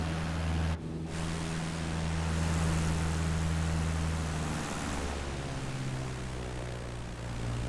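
Steady propeller engine drone from a light aircraft in the Neofly flight simulator over the Isle of Wight, a continuous loud hum with a constant low tone and a brief dip near the start, no talking.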